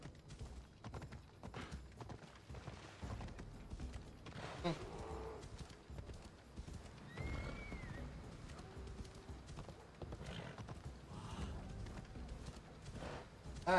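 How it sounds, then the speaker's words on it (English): Horse hooves galloping in the video game Assassin's Creed Odyssey: a steady, continuous clip-clop rhythm at moderate loudness runs throughout, with occasional game effects and background layered over it. "Damn it, this horse is slow as hell. Why is this horse so slow?"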